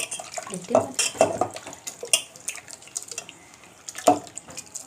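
Water splashes and trickles into thick tamarind paste in a pot in short bursts, with occasional clinks of a utensil against the vessel.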